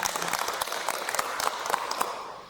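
Applause from a group at a community family-resilience gathering, a brisk scattered clapping with distinct hand strikes, fairly quiet and fading slightly at the close.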